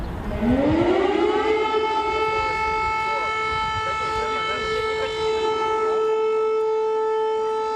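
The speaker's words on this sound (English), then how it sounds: "But air raid sirens continue to interrupt our daily lives." An air raid siren winds up and holds a steady, wailing tone, sounding from a distance across open air for several seconds.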